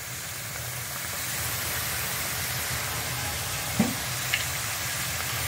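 Gujiya frying in hot oil over a medium flame, a steady continuous sizzle with a couple of small pops near the end, close and even throughout.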